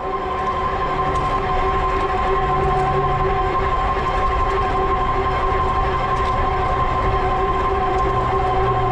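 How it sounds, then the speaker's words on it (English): A steady e-bike hub motor whine holds constant tones over a rumbling, rolling background, continuous and unbroken throughout. "Now the noise you hear on the bike, that is the hub motor."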